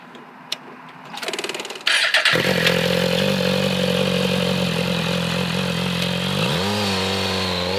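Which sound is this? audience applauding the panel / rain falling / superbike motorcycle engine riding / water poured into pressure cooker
superbike motorcycle engine riding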